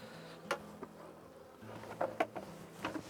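Honeybees fly around a hive as a new crown board goes on, giving a soft, faint buzz with a few light knocks and taps close by.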